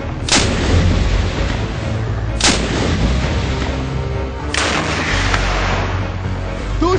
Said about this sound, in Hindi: सीजीआरएल हीट राउंड फायर